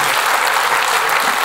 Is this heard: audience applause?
yes